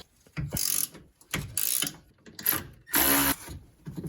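Ratchet wrench clicking in several bursts while loosening a 16 mm steering coupler bolt and 15 mm nut on a BMW E36 during front subframe work, close and loud with brief pauses between strokes.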